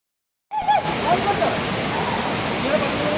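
Chaul Bhaja waterfall in Mayurbhanj, a steady, loud broadband roar of falling water that starts abruptly and continues unbroken, with a brief voice faintly audible near the start.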